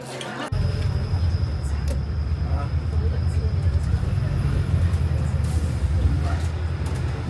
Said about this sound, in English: Riding on the bus.